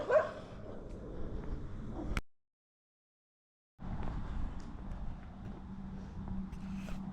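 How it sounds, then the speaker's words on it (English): Dogs barking aggressively near Lonavala, a burst of barks and yips that cuts out abruptly, then resumes as fainter, more distant barking over background rumble. "I may have inadvertently made a noise and scared the shit out of those dogs, and they just went on the complete aggressive"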